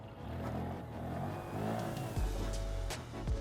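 Honda Grom motorcycle engine in first gear, a steady close engine drone that rises and falls as the throttle is worked, with a couple of sharp revving surges near the end, no talking.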